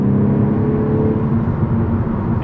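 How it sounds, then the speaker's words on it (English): A 2012 Volkswagen Golf R's turbocharged engine drones steadily from inside the car while driving, a loud, constant whirring hum with no talk over it. "And you can hear the turbo sounds"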